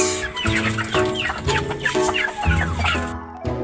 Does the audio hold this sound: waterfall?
no